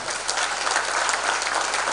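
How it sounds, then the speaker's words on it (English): Audience applause at an engineering awards ceremony held by the IESL: dense, sustained clapping from a large crowd that stays steady and loud throughout. "They do deserve a big round of applause."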